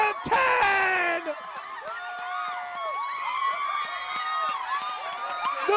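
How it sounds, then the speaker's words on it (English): A high school football crowd roars and cheers after a touchdown in a Palo Alto vs Archbishop Mitty game, a loud burst followed by sustained shouting and whoops, with voices and shrill whistles mixed in. "The crowd is going crazy!"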